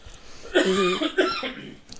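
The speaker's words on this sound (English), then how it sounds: "it is hard to not cough at this moment" A close, rough cough burst, a brief pause, then a second cough, with a throaty, voiced quality and quiet room sound around them.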